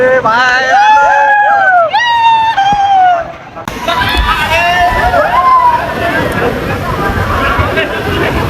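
A crowd at a water park wades into a pool, with excited voices, shouts and babble over splashing and sloshing water. The scene moves from close, clear voices to a broader, noisier wash of crowd and water.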